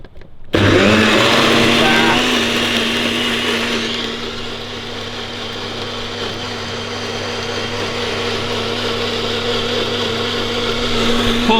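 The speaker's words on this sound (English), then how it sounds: "how, Sam, are you gonna make a bloody smoothie in the morning?" A blender powered through an inverter whirs loud and steady as it blends a chia seed smoothie, its motor pitch dipping slightly as the load settles and holding on.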